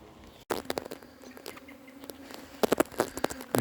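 A small cast swarm of honey bees buzzing in a low, steady hum, overlaid by several close clicks and taps that grow busier toward the end.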